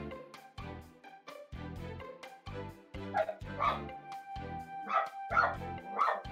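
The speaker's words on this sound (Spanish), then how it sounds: "Ah, que el timón está ladrando, ¿me perdonan? That's my dog." A pet dog barks in a home during a gaming tournament stream, several yips and whimpering barks in irregular bursts, fairly close and clear, with no speech over them.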